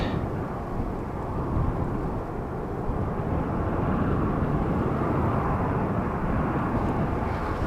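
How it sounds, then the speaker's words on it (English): An Airbus A330-900neo airliner on the Polderbaan runway 36L at Amsterdam Schiphol produces a loud, continuous, even jet-engine roar that fills the entire stretch. "an A330-900 Neo, going to New York, JFK."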